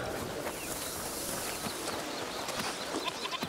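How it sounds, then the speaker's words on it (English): Goats bleat in a village area of the video game A Plague Tale: Requiem, a few short calls rising over a steady, busy ambient background with no talk. "What's over there? Goats!"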